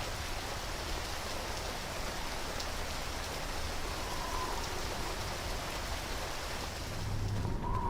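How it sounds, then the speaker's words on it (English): Steady, loud rain from the Half-Life 2 video game fills the whole stretch as a dense, continuous hiss, with no voices heard. "Not exactly entirely physically accurate rain sounds right now."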